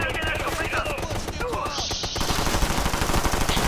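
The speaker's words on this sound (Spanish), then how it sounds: "¡Ay, me disparan!" Rapid automatic gunfire in the Ghost Recon Future Soldier video game, with dense, close bursts of shots rattling through the whole moment and a sharp hiss-like blast in the middle.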